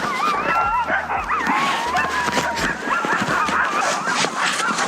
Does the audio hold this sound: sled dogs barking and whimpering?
yes